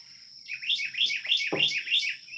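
A small bird near its nest gives a rapid series of bright, repeated chirps, close and clear, with a brief thump partway through.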